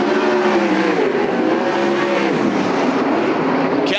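A sprint car on the oval track at a Western Sprint Tour race at Sunset Speedway Park roars past. It is loud and close, and the engine pitch sweeps and falls as it goes by, with a faint tire squeal.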